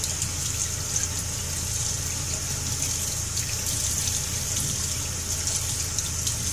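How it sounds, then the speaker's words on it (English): Water runs steadily from a tap over a razor blade, a continuous close hiss and splash with no pauses across the whole stretch. "putting water on the razor blade"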